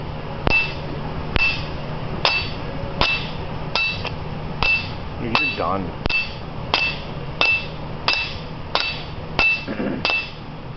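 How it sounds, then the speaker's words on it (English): Sharp, regular hammer blows ring on metal, about fourteen evenly spaced strikes, close and loud, with a brief spoken remark near the end, during fitting of a front-wheel-drive Ford Focus differential crown gear. "There's a lot more solid feel to the hammer now."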